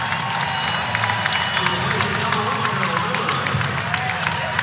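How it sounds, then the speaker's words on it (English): Crowd in a women's college basketball arena, Georgia Tech versus Virginia, giving a steady round of applause and cheering that fills the clip at moderate level. "nice round of applause for Caden Lawson as she returns to the floor"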